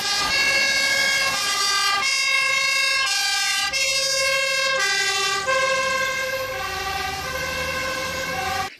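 A red toy fire truck's siren wails continuously and loudly, its electronic tones shifting in steady stepped patterns throughout.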